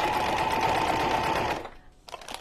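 A sewing machine stitches steadily in a short back stitch while working on a junk journal cover, its motor whirring close and continuous for about a second and a half before stopping, followed by a faint clack.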